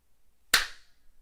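A single sharp hand clap indoors, crisp and close, with a short fading tail in otherwise near-silence.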